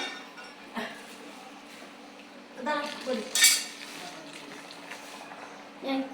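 Metal utensil scraping and clinking against a pot while stirring fried eel fish in water, with a few louder clatters near the end over a low steady hum.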